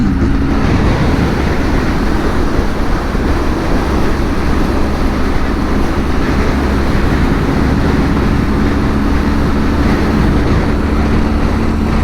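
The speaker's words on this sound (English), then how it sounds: "I'm on an adventure motorcycle" An adventure motorcycle rides at speed, a loud, constant roar of engine and rushing wind that stays even throughout with no voices.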